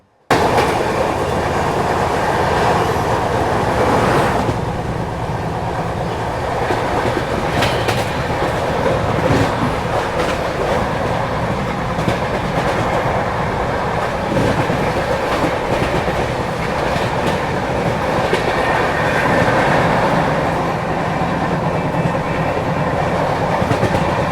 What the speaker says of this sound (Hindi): यहाँ अपनी ट्रेन ओवरटेक कर रही है लखनऊ से दिल्ली को जाने वाली गोमती एक्सप्रेस को